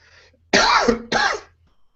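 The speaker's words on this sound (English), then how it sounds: "Got a little cough there." Two harsh coughs close together, loud and near, with quiet before and after.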